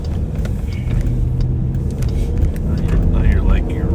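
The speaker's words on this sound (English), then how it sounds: "That's the real inside of a squad car. Radios and nothing else." Inside a sheriff's patrol squad car, a constant engine and road rumble fills the cabin, with radio chatter crackling over it.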